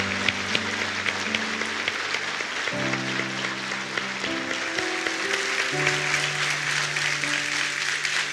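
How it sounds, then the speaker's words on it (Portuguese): Men rise to give the women a standing ovation in a church service, sustained dense applause from a large congregation with music playing underneath, steady and loud for the whole stretch. "os homens vão ficar de pé e aplaudir de pé essas mulheres"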